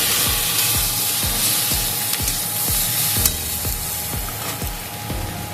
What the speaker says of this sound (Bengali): দেবো 1 চামচ লঙ্কা গুঁড়ো, নাড়াচাড়া করবো।